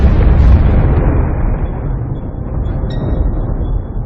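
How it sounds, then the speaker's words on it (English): Sound effect for a matter-antimatter annihilation blast: a loud, deep boom that opens abruptly and rumbles away over several seconds, with no speech. "Whenever it comes into contact with normal matter, the two annihilate each other in a ferocious blast of energy."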